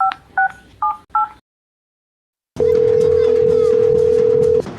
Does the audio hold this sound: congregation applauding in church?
no